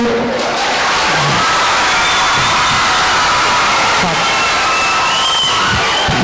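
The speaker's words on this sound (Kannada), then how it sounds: "ಅವ್ರ ಹಿತನುಡಿಗಳಿಗೆ ಇನ್ನೂ ಸ್ವಲ್ಪ ಜೋರ ಚಪ್ಪಾಳೆ ತಟ್ಟು" Audience applause at a free study kit distribution program, a dense, loud, sustained roar of clapping with crowd cheering and scattered shouts throughout.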